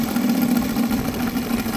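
An OS FR300 radial model engine idles steadily after break-in with the glow plugs disconnected, giving a close, even, continuous drone with no change in pace.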